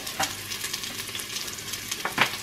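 Red onion drops into a hot pan and sizzles steadily, with a few stirring scrapes and clacks of a utensil over the frying.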